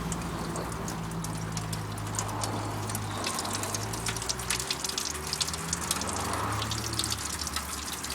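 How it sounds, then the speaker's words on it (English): Clean water flushes through the washer bottle of a Jaguar X-Type, a continuous near gushing and splashing with scattered drips, steady in level throughout and with no talking. "I'm going to wash it right through with clean water"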